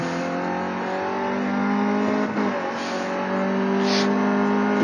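A race car in a driving game, on the Outlon Park track, pulls out of a corner and builds revs in a steady rising engine drone, fairly faint and heard alone.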